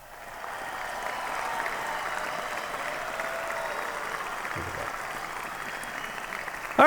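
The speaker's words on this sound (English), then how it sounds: "That was the quiet applause, and there's the loud applause." A quiet applause sound effect plays on a radio sports talk show, a soft, steady wash of clapping, then cuts off abruptly at the end.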